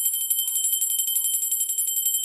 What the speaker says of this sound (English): let's all just ring our bell if you have your bell